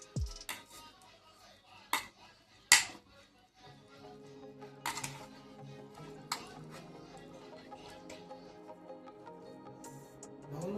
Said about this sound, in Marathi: आता आपण हे सगळं मिक्स करून घेऊया.